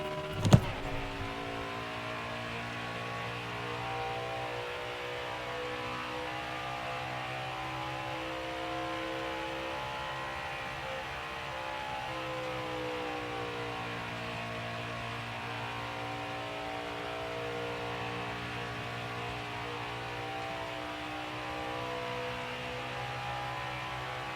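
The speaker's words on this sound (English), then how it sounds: "Is that probably because the engine sounds a bit too loud?" A race car engine from the NASCAR Heat 4 stock car racing game drones steadily and continuously at an even pitch throughout, with a brief click at the very start and no talking.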